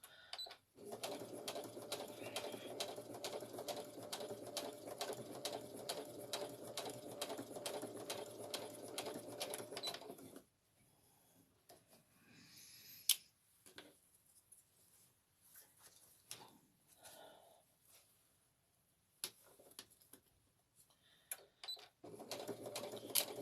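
A sewing machine stitches zip tape onto a girl's dress in a fast, steady rhythmic whir for about ten seconds, then stops, leaving quiet handling clicks and faint rustling before a short burst of stitching resumes at the end.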